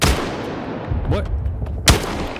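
Gunfire in the video game S.T.A.L.K.E.R. 2: a loud close shot at the start and another sharp blast near the end, with rumbling debris between them, and no voices.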